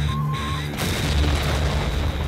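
Single loud grenade blast in the Red vs Blue Halo game, a sudden broad boom that swells out of a lower rumble and then sustains as a long noisy roar with debris-like crackle, alone without voices.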